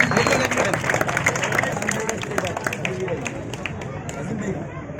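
Scattered clapping rises from a crowd welcoming guests at an AIMIM party event, the claps loosening and fading over a few seconds under a loudspeaker voice and general hubbub.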